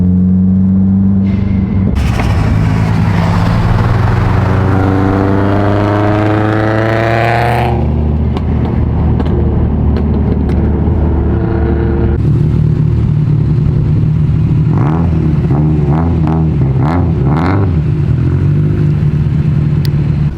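A Subaru STI summer car pulls away and revs, its engine note rising through gear changes then settling into a steady rumble with further blips, loud and close with no talking.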